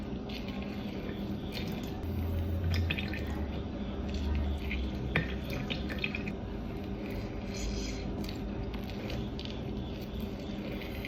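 Soursop juice drips through a strainer as a faint, steady trickle with a few soft drops, quiet and continuous against low background noise.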